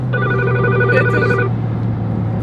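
A mobile phone rings in a garage beside a big single-turbo N55 BMW 335i, its steady electronic ringtone lasting about a second and a half before stopping, heard close over a constant low hum.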